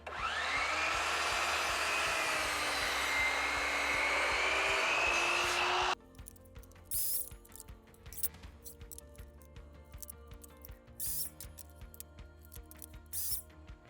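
Saw blade cutting wood pieces for a chaise lounge, a loud continuous whining cut that stops abruptly, followed by quieter knocks and handling clatter of the boards.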